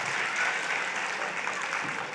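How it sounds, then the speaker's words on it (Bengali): Steady audience applause fills the hall at a televised Bangladeshi event honouring special-needs children, dense and continuous clapping without any speech over it. "আপনাদের কাছে হাততালি চাইছি।"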